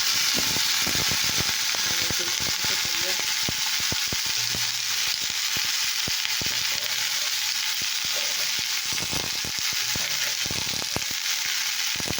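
Five-spice phoron tempering sizzles in hot oil, a steady, bright crackle running on for several seconds, dotted with sharp pops and spits, with no talking over it.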